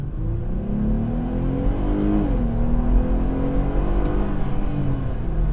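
A 2025 Jeep Gladiator Rubicon pickup engine accelerates loudly from inside the truck, its low hum rising in pitch, briefly dropping as it shifts, then climbing again steadily.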